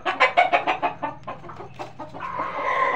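A Gavrani breed hen clucks in a quick run of short, rhythmic notes up close, then the clucks thin out into a steadier, softer background murmur of fowl.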